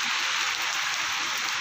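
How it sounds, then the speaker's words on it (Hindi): Heavy rain pours in a steady, dense hiss, a continuous wash of falling water without breaks or nearby voices. "तेज बारिश है ना भाई"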